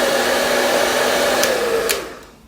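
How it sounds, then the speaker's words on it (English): Hair dryer blowing steadily at close range with a high whine over a broad airy rush, then winding down near the end; no voices. "I compare the sounds of these two blow dries to see which one is louder"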